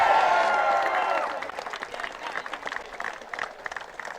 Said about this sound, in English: We love crowd enthusiasm here.